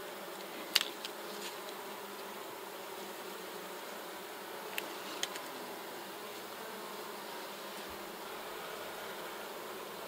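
Honey bees buzz softly and steadily around a hive frame in a box holding honey and brood, forming a faint continuous drone with a few small clicks and knocks.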